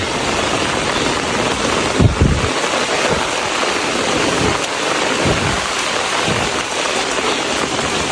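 Rain falls hard and constantly over a hill village, with several deep, low rumbles rolling in beneath the downpour, like thunder in the distance.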